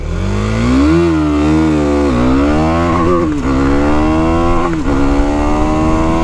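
A KTM 390 Duke motorcycle engine revs hard to about 8,000 RPM, a loud close rising snarl with pitch swells and quick shifts in engine note, sustained throughout.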